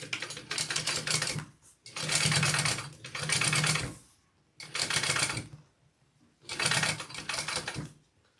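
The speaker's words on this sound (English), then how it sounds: "Now I'm going to do that double top stitch along the top just like I did with the bottom edge." Sewing machine double top stitching along the top edge of a bag, running in four distinct bursts of rapid rhythmic stitching separated by short pauses, close and clear with no talk.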